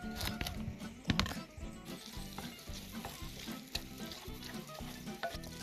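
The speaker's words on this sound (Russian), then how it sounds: "Фарш перемешиваем." Minced meat filling being stirred and mixed by hand in a bowl for stuffed zucchini, with soft, wet, squelching and scraping sounds in a continuous rhythm, close and fairly quiet.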